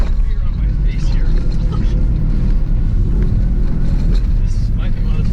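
Fast off-road vehicle engine rumbling loudly and continuously at close range, with jolts and rattles from rough ground mixed in, and voices speaking over the noise.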